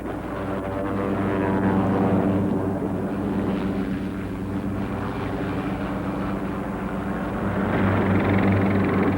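Loud, steady engine drone with a pulsing low rumble of a helicopter passing overhead above the Amazon rainforest, swelling slightly and holding throughout with no speech.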